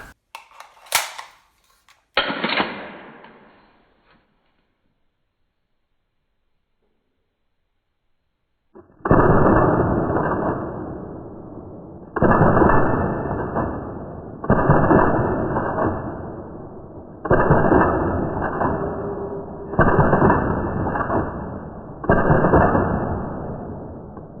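Rare Arms XR25 gas blowback airsoft rifle firing with shell ejection, heard as six loud, evenly spaced sustained bursts of rapid shots after a few sharp opening clicks and a short silence.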